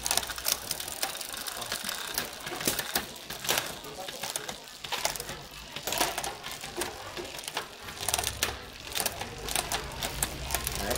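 Shimano Tiagra 10-speed gears on a two-chainring road racing bicycle shift repeatedly, giving crisp ratcheting clicks and chain rattle against a busy mechanical whir, with someone talking over it.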